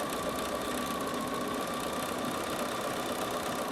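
A Bernina 7 series sewing machine stitches steadily, giving a continuous rapid mechanical whir and fine rhythmic ticking at a moderate, even level with no pauses.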